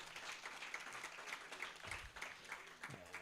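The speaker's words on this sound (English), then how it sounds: "A round of applause again, just to appreciate the Commissioner." An audience at an election integrity summit in Africa applauds a commissioner with a faint, distant patter of clapping that continues steadily throughout.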